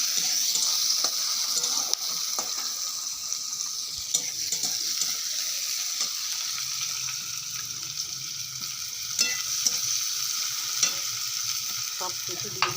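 Onions frying in hot oil with cardamom, cinnamon, cumin and bay leaf, a continuous close sizzle with frequent clinks and scrapes of a stirring utensil against the pan, no talk.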